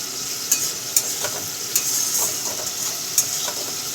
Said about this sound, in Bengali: এইভাবে একটু মিহি করে কেটে রাখা পেঁয়াজগুলো একটু ভেজে নিতে হবে